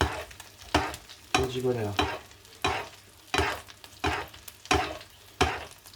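Butter foaming and sizzling in a pan as fish is basted, a soft frying hiss broken by rhythmic spoon scrapes and clinks roughly every second, with a voice speaking briefly.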